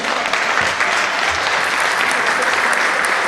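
A theatre audience applauds the president of a touring troupe, loud, dense clapping from a large crowd sustained evenly from start to finish.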